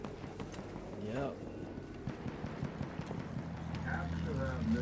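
Hooves clop in a quick galloping rhythm as a horse runs in the video game Battlefield 1, moderately loud amid game noise, with a brief whinny and people talking over it.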